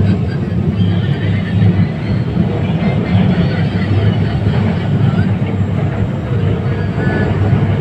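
An LRT Line 1 train rolls along toward Dr. Santos station, with a loud, continuous low rumble of wheels and motors heard from inside the car and a faint hiss above it.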